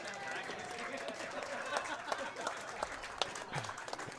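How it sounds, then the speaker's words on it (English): Fans applaud the newly crowned men's open racquetball champion at the Boston Open final, a moderate wash of clapping in an indoor court while a commentator talks over it. "Round of applause from the fans here"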